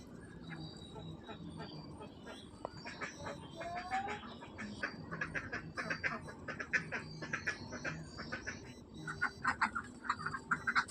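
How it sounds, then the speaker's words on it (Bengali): Ducks and chickens let out in a village yard quack and cluck in a busy overlapping chorus, close and growing livelier toward the end. "এবার আমি হাঁস মোরগ ছাড়ব"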